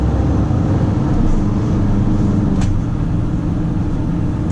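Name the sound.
truck engine driving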